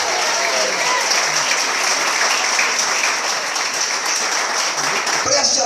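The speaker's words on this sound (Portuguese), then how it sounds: "Mais forte as palmas," A church congregation applauding during a lively service, dense sustained clapping that fills the room at a loud, even level throughout, with scattered voices mixed in.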